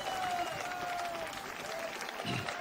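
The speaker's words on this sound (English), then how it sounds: "On va applaudir les arbitres de la compétition." Applause from the audience at a rugby sevens tournament as the competition referees are called forward, a dense patter of many hands over crowd murmur at moderate distance, with a thin whistle-like tone running beneath it.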